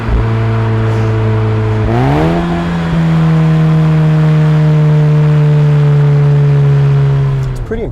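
A 2016 Volkswagen Golf GTI, front-wheel drive with its gearbox in sport mode, hums loudly at a steady engine note, then a quick rev blip on the downshift lifts the pitch and it holds there before easing off.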